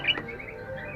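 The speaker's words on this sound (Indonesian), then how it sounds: "walaupun burungnya kayak gini tapi suaranya mantap, suaranya bagus" A caged sooty-headed bulbul chirps with a sharp, bright note followed by softer thin tweets, close and alone without talk.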